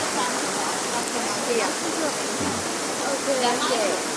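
Warm spring water flows steadily at a natural hot spring in Pai, Thailand, a continuous close rushing wash like a small stream or cascade that holds evenly throughout with no pauses.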